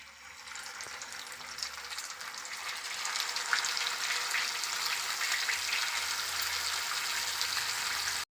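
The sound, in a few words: chicken frying in oil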